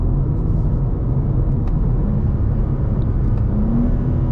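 BMW G87 M2 running an M2CS tune, steady engine drone inside the cabin with a brief paddle-shift blip midway and a rising note near the end, continuous and fairly loud.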